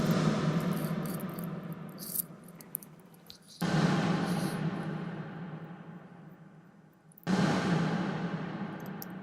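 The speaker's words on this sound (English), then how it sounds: "This is the sound of the reverb" A snare drum is struck three times through Ableton's native reverb with no filtering, each hit followed by a long, washing reverb tail that slowly fades before the next.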